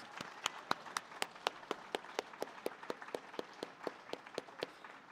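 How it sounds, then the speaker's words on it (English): Sparse, distinct handclaps at a festival, fairly faint and spaced out, suggesting a small outdoor audience clapping in loose rhythm rather than a dense ovation. "Let's give them all a round of applause."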